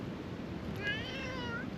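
Single short, faint meow from a pet cat, rising and falling once against a quiet background with no talking.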